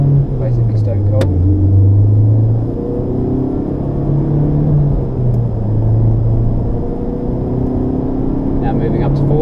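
A 2017 Honda Civic Type R driving in fourth gear, with a loud, close interior engine and road rumble that drops and rises as power is backed off and reapplied, while a person talks over it.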